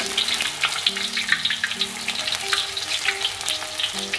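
Chive and shrimp fritters pan-frying slowly over low heat, a loud continuous crackling sizzle with dense popping oil throughout and no talk.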